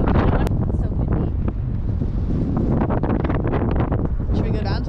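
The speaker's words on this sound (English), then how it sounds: "It's so windy." Strong wind buffets the microphone with continuous low roaring rumble during an outdoor ride on a 2021 RadRunner e-bike, with voices talking over the gusts.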